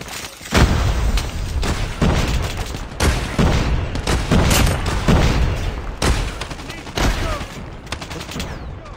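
Heavy gunfire and booming blasts in a Call of Duty battle, with a grenade explosion among dense, continuous loud bursts and rapid shots over about nine seconds.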